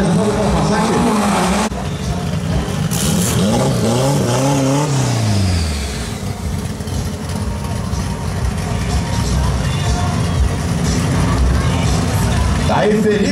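Drag racing cars, including a Passat, run at a Brazilian drag racing meet: loud engines roar and rev past at close range, one sweeping through a falling pitch, with crowd and track noise continuing throughout.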